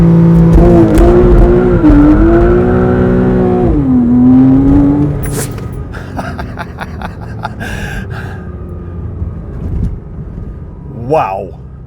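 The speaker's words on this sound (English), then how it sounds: "Now we put it in drive, Sport Plus mode, and we hang on." A Porsche 987.2 with a PDK gearbox launches hard in Sport Plus mode, its engine howling and climbing in pitch through quick upshifts before settling and fading, with excited exclamations from inside the car.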